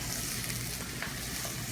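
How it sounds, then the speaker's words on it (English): Onions sweating in olive oil with pancetta, a dense steady sizzle and crackle close by, continuous without pauses or voices. "We're going to sweat the onions"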